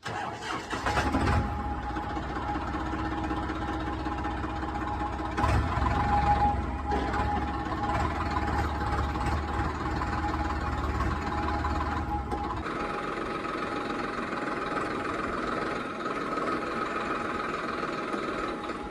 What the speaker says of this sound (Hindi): तो ये ट्रैक्टर को खड़ा कर देता हूँ एक बार मैं छाए में